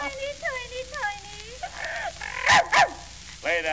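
Yelping, whining dog-like cries rise and fall in bursts with sharper bark-like yips, likely a voice imitating a bulldog barking on an old comic recording, fairly close and loud.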